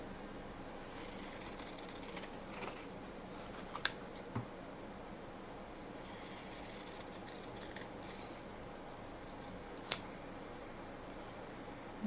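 Scissors cut out printed paper product labels in a quiet room, a soft continuous rustle of paper broken by a few faint snips and two sharper clicks, close and alone.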